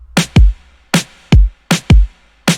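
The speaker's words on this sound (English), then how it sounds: "I have some standard kind of synth pop drums for this." Synth pop drum pattern in FL Studio, a punchy kick followed by a crisp snare in a simple repeating groove, four quick kick-snare pairs, dry and upfront with no voices.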